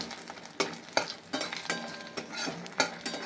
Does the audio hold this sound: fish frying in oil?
yes